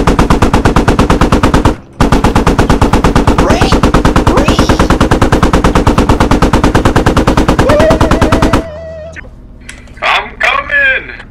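Loud, rapid automatic gunfire in a video game rakes buildings in a long sustained burst with one brief pause, then cuts off, followed by a few scattered sounds and talk.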